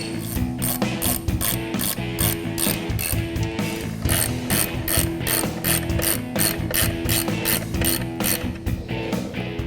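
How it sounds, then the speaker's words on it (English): A ratchet wrench drives clutch bolts on a 1996 Mustang with a Coyote engine swap: loud, close, rapid clicking pawl bursts in quick repeated strokes, continuing steadily with brief pauses between pulls. "Get a couple started, now we can install the rest of our clutch bolts."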